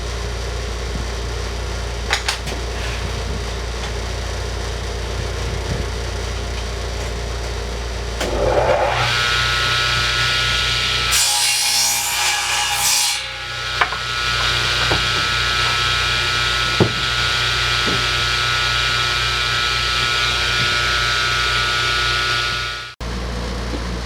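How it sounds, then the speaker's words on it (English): A table saw running with a sled during a notching cut on a woodworking project, a steady motor drone with a brief louder surge as the blade bites in midway, then the motor winding down near the end. "basically it's just a table saw cut"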